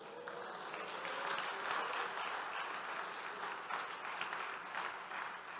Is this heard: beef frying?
no